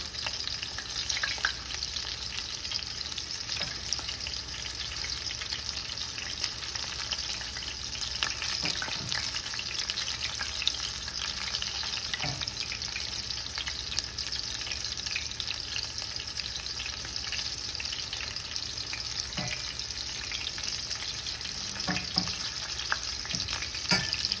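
Battered fish pieces deep-frying in oil for homemade fish and chips make a steady, even hiss and crackle that runs unbroken throughout, with a few faint clinks, close and without speech.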